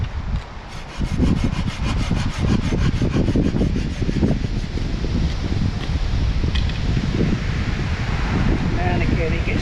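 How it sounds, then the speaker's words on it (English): Hand sawing through cut willow branches outdoors, a steady back-and-forth rasp of the blade in a rhythmic run of strokes, with wind buffeting the microphone throughout. "I found some willow that had already been cut down, so I thought I'll cut them into size just to make a sort of small sort of table."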